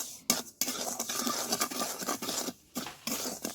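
Salt being dry-roasted in a hot pan while making black salt, stirred with a metal utensil that scrapes and rattles continuously against the pan in close, busy strokes with a few short pauses.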